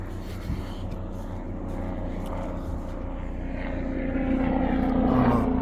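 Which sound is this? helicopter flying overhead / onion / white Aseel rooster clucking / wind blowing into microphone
helicopter flying overhead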